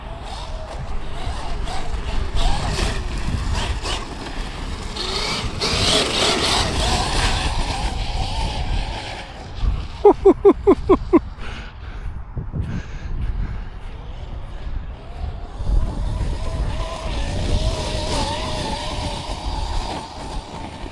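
A Traxxas X-Maxx RC truck with M2C 1163 outdrives bashing outdoors, its motor whining and tires skidding in loud rough bursts that surge and fade, with a short rapid clatter midway.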